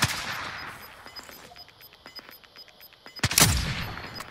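Video game gunfire cracks out in a rapid burst at the start, scattered lighter shots follow through the middle, and a loud, dense volley closes it out, all fairly close with no talking.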